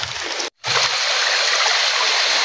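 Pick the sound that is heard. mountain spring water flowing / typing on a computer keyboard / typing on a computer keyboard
mountain spring water flowing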